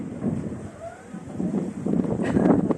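Wind from a downdraft buffets the microphone in low, uneven gusts, rising louder toward the end.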